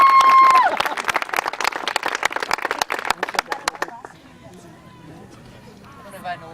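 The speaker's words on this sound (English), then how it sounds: "I want to all of us give them a round of applause" A round of applause for a girls' under-15 youth soccer team after a state cup final: a burst of dense, close clapping that thins out and fades after about four seconds, ending in quieter ambience.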